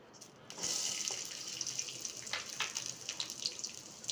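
Oil poured into a cooking pan while making vendakkai puli kulambu, a Tamil okra tamarind curry, giving a steady, faint liquid stream with soft splashy ticks and no talking.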